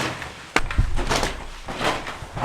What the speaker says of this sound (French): la porte, elle est en train de bouger toute seule